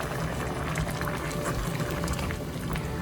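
Water from a tomato can simmers and bubbles in a cooking pan of fried corn and Rotel tomatoes, a steady close hiss with no talking.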